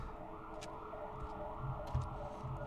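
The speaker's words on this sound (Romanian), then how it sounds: "Și acum s-a auzit o poliție" A police siren wails faintly in the distance inside the exploration game The Vanishing of Ethan Carter, its rising and falling tone drifting under quiet ambient game sound with a couple of small thuds.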